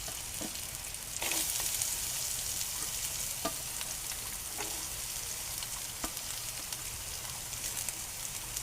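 Half an onion frying with turmeric in a pan, a faint continuous sizzle with occasional light spoon scrapes and clicks.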